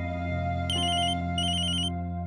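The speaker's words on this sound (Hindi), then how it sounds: "माँ का फोन है।" A phone ringtone plays in two short electronic bursts over a steady tonal background, clear and fairly close, with no talk.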